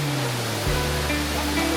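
Steady, dense roar of the Rupashi waterfall, loud and close, with a low rumble shifting partway through; no voices.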